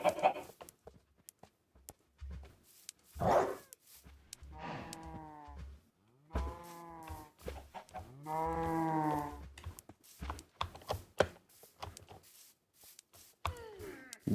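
Minecraft chickens clucking in short, separate bursts scattered across the stretch, with quiet gaps between them, close and clear with no talking over them.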